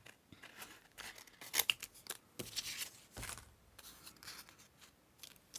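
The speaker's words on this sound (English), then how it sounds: "Let's just fussy cut one of these out to see." Scissors fussy cutting around a shape in paper for a junk journal, a steady run of close, crisp snips and rustling paper, with no talking.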